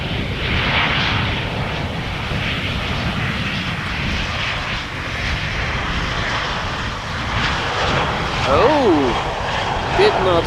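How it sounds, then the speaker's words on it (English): EasyJet airliner arriving from Milan on approach to Amsterdam Schiphol Airport, a steady broad jet roar lasting throughout, moderately loud with a slight swell near the end and faint background sounds. "EasyJet coming in from Milan."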